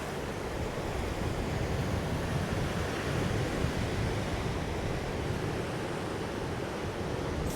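Waves break and wash up a south coast beach in a steady, broad roar of surf, mixed with a little wind rumble at close range.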